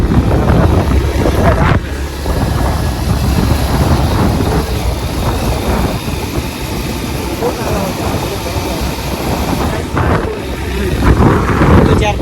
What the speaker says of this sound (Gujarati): રાજુ બાઈક ચલે છે.